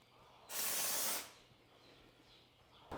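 A spray bottle gives one steady hissing burst of mist, close and fairly loud, then a quiet room before a brief second spritz starts at the end.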